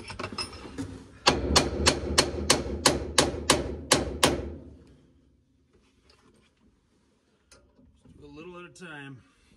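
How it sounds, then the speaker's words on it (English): Around ten sharp, evenly spaced metal hammer blows strike an interior part of a 1954 Chevy rat rod truck, loud and close. Silence follows, then a brief voice. "Let me get a hammer quick."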